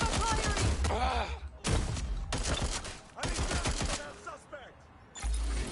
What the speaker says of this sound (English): Providing suppressive fire!